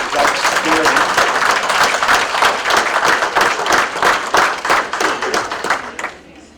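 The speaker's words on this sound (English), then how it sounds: "let's have a round of applause for our kitchen staff and the meal that we received." A room full of people at a fire district installation banquet claps steadily for the kitchen staff, dense applause that carries on for several seconds before tapering off at the end.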